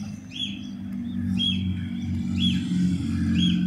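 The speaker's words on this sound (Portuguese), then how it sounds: "Onde tá esse passarinho? Ah, tá na gaiola." A small caged bird chirps in short repeated calls, about four evenly spaced, over a steady low background hum in a supermarket.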